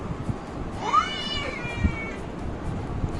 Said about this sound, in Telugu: ఈ పిల్లి గోలు ఎక్కువైపోయింది